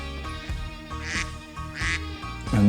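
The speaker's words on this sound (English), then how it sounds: "How many ducks have you seen, Pablo?" Several ducks quack in repeated bursts at moderate distance, the calls arriving in short groups with brief pauses between them, against a steady background.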